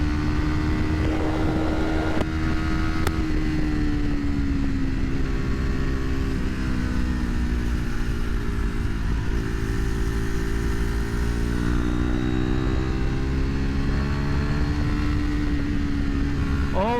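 A small KTM sportbike sweeps through canyon turns, its engine droning steadily and close throughout, pitch rising and falling gently with the throttle alongside constant wind rush.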